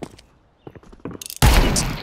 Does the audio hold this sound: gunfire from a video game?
yes